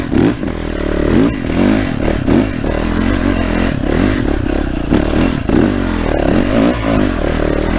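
A Yamaha 450 YZF dirt bike rides off-road through ruts and over roots, its engine revving and surging in repeated bursts while the chassis clatters and thumps close by.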